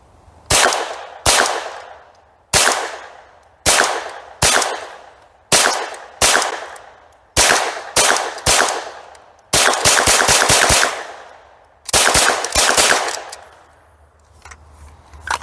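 UK-legal MP40 firing through a magazine of high-velocity rounds, with sharp single shots in an uneven rhythm, a quick rapid cluster near the middle, and a few more close, loud reports toward the end.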